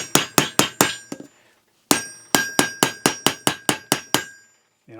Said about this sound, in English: Dual-sided soft blow mallet.